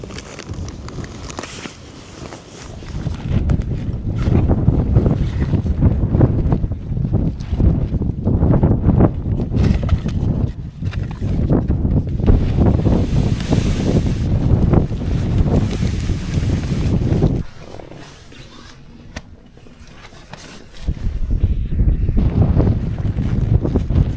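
Strong wind buffets the microphone on a wild camping trip while a tent is pitched, a loud, rushing roar in uneven gusts that drops away briefly near the end before surging back.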